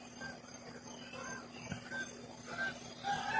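Chickens cluck and call softly in the distance, a few scattered calls over a low steady background hum.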